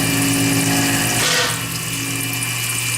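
A milling machine cutting a knife with a copper inlay at a shallow depth, giving a steady, loud mechanical whine and hum with strong tonal bands and a brief swell that settles into a slightly quieter running drone.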